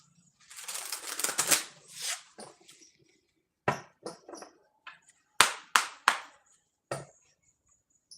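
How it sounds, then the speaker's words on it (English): A deck of cards being shuffled at close range: a long riffling burst followed by a series of sharp, separate slaps and taps as the cards are squared and cut, quiet against near silence. "Just getting a clear shuffle."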